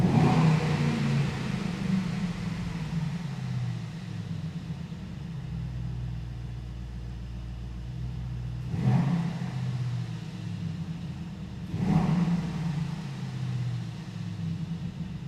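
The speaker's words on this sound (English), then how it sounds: "And now listen to the sound. We are stationary, exhaust is on." A stationary 2024 Brabus GLS900 Super Black with a 900 hp 4.5-liter engine idles with a deep, rumbling burble in Sport Plus with its exhaust open, then gives two sharp revs a few seconds apart before settling back to idle.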